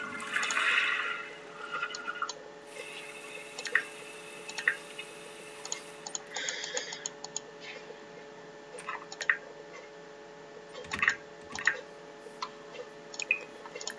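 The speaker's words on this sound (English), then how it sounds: "Use the toilet." A toilet flushes in The Sims 4, a gushing rush of water at the start, followed by faint scattered drips and small ticking game sounds over a quiet, steady background.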